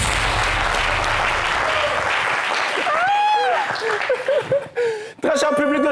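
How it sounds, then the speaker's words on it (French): Audience applause at a live television show fills the first couple of seconds, then gives way to laughter and voices talking. "On applaudit pour Toumi."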